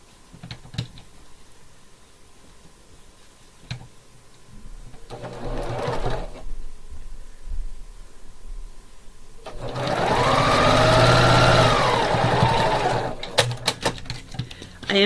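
Sewing machine stitching pinwheel quilt pieces together in rows, with short bursts of stitching early on and a longer, louder steady run of needle clatter near the end, close up and otherwise quiet.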